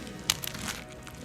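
A few brittle cracks and crunches, close and quiet, as a knife breaks through the flaky crust of a chicken pie.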